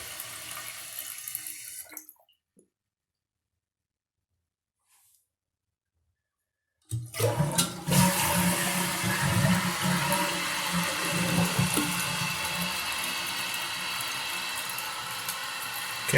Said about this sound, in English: when it flushes it gets up underneath the toilet flapper and causes it to stay running